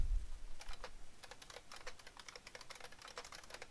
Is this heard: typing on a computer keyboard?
yes